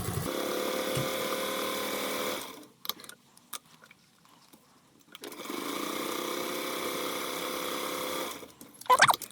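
Sewing machine running a second quarter-inch line of stitching along a padded sling bag strap: two steady mechanical whirring runs separated by a pause, with a sharp click at the end.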